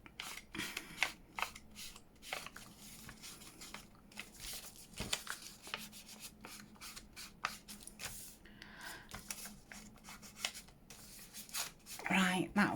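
Paper being trimmed by hand to remove the border along one edge for a junk journal, giving a run of close, quiet rasping and rubbing strokes with small crinkles, steady throughout with a few sharper snips.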